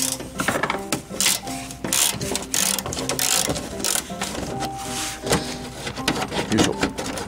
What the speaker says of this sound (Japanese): ボルト外しまして